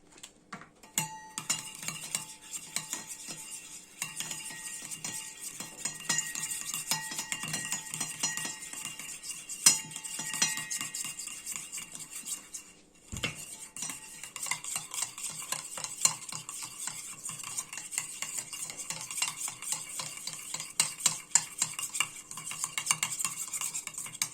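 A spoon stirs a tuna mousse mixture with olive oil in a bowl, giving steady soft scraping and clicking strokes that continue close and moderately quiet, with one short pause midway.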